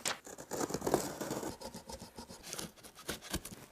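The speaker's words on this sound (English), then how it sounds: "let's go get a pair of scissors and let's start cutting" Scissors snipping and scraping through a cardboard shipping box up close, a quiet run of irregular crisp cuts and rustles.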